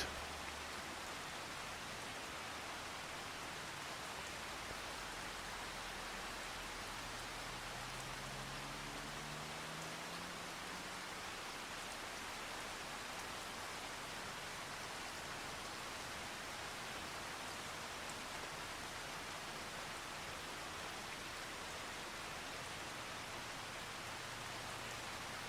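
Rain falling on a farm in the video game Farming Simulator 25, a steady dense hiss of downpour holding evenly throughout with a low rumble briefly underneath.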